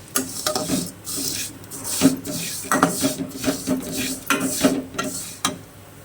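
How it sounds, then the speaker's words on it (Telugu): A cup of vermicelli frying in hot ghee for semiya kesari, stirred in the pan with a spoon: steady scraping and clinking strokes against the metal over a soft sizzle, repeating at an uneven pace. "ఇప్పుడు ఈ నెయ్యిలో 1 కప్పు సేమియా వేసి వేపుకుందాం."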